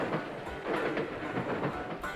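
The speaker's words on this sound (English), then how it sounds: "This is the sound of train wheels passing over the join between one rail and the next." Train wheels clatter over the joints between rails in a steady, rhythmic clickety-clack, fairly close and loud over a constant rolling rumble, with no voices.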